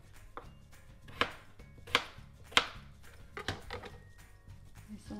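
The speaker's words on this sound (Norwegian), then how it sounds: "Nå skal jeg skjære potetene." Potatoes being cut with a knife on a board for Ukrainian fish soup, several crisp separate chops at an uneven, unhurried pace, close and clear with no talking.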